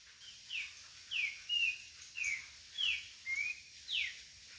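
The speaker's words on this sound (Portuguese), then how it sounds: "Ele e o Sabiá Laranjeiro parece que compete pra ver quem canta mais alto." An orange-bellied thrush sings outdoors with another songbird nearby, giving about seven clear, whistled, slurred phrases at a steady pace with short gaps between them. No voices are heard.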